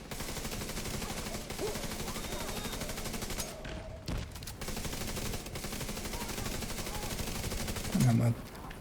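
Video game gunfire as several targets are shot and marked, with dense, continuous shooting and battle noise running throughout, a heavier burst near the end, and a voice talking intermittently underneath.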